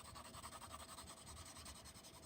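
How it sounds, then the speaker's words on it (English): A pencil rubs back and forth across paper while shading a sphere, a faint, soft, rhythmic scratching with repeated strokes and no voice over it. "pressing lighter with my pencil as I move toward the light side"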